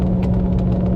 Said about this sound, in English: That sound you're hearing is the sunroof.